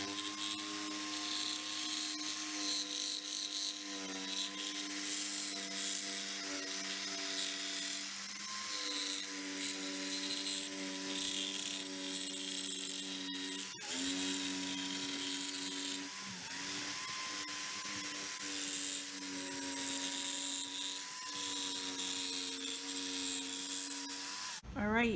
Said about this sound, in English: So we're going to go ahead and cut along our line now.